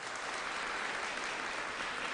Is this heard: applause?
yes